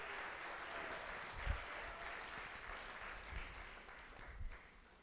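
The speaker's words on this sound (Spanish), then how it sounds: "Dele fuerte ese aplauso al Señor" Church congregation applauds steadily, a dense continuous patter of many hands clapping at a moderate distance, with a few louder thumps and faint voices mixed in.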